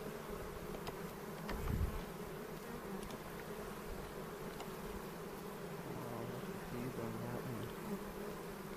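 Honeybees buzzing during a beehive inspection: a steady, dense drone from many bees close by, with a few individual insects rising and falling in pitch as they fly past.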